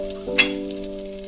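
Batter sizzles briefly as it is poured into a hot pan, a short soft hiss with a sharper burst near the start, alone without voices.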